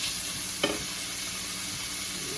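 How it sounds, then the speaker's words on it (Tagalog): Bacon sautés in a buttered pan for carbonara, a steady, even sizzle heard close with one brief clink of a utensil near the start and no voices. "Nagigisa na natin yung ating bacon."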